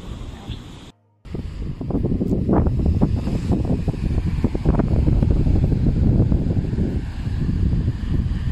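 Wind and surf roll along the seashore at Side, Turkey, a steady broadband rush that stays loud and close apart from a brief dropout near the start.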